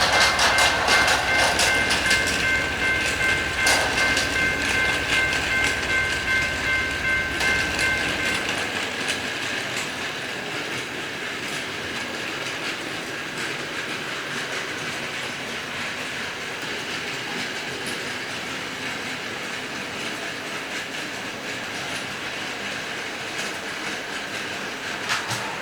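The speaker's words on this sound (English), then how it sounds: "Let's see whether it can successfully pull the container train up onto the elevated railway." A Plarail toy Shinkansen train hauls a container train up an elevated plastic track, giving a steady close whirring rattle that is louder for the first eight seconds and then settles into a quieter continuous hum.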